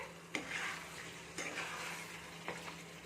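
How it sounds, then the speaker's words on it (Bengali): Chicken is stirred with chicken masala in a sizzling pan, with three distinct spatula strokes against the pan over a steady frying crackle. "চিকেন মশলাটা দিয়ে ভালো করে নেড়ে নেবো চিকেনটার সাথে।"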